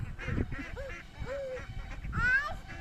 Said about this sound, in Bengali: চলে গেল হাঁস, চলে গেল।